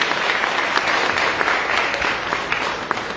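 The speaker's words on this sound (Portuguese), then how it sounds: "Com uma salva de palmas para Jesus." A church congregation at a Brazilian worship service claps steadily and densely for the full stretch, a loud, even wash of many hands with no pauses.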